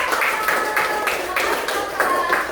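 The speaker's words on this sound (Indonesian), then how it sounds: "kita tepuk tangan dulu Pak" A small group in a coding and artificial intelligence lesson claps along together, rhythmic bursts of hand clapping repeating several times with faint voices underneath.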